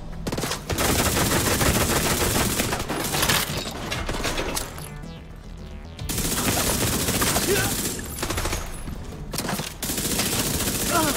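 Rapid automatic gunfire in The Division 2, with loud sustained bursts of shots and short pauses between volleys, close and dense throughout.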